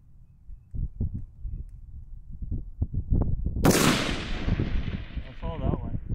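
An AR-15 rifle fires at a long-range steel target, with one loud, sharp report standing out over a series of softer thumps and rustling. Afterward a long, decaying ring trails off.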